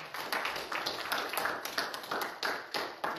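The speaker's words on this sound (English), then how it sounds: "Can you give the Lord a hand clap of praises for him?" A church congregation gives a hand clap of praise during a resurrection service, a quick scattered burst of many hands clapping at moderate volume, heard alone without talk.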